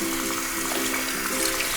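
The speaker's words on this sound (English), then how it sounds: "Turn off the water." Tap water runs in a steady, even rush while a piece of hand embroidery with French knots is rinsed, a continuous close splashing hiss with no talk.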